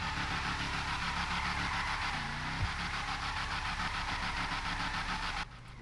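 Imponte Nightshade car engine in GTA V, a steady, loud, continuous rumble held for several seconds with a brief low thump partway through before it cuts down near the end.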